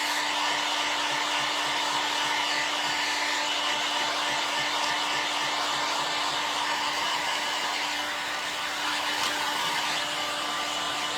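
Hair dryer drying paint on salvaged wooden furniture, a steady loud whooshing blower with a constant hum running unbroken throughout, nearby and alone without talk.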